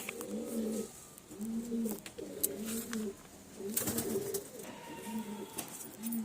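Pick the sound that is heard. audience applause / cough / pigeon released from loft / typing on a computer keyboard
pigeon released from loft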